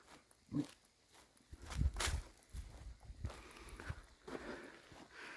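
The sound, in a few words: footsteps walking toward a compost windrow, light raindrops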